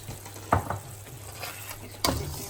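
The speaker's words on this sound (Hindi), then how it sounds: "थोड़ी देर अपने मसाले को भूनेंगे ताकि पक जाए अच्छे तरीके से, कच्चापन इसका ख़त्म हो जाए।" Cumin powder and spices roast in a pan for a dhaba-style urad dal tadka, with a steady sizzle and two short scraping stirs.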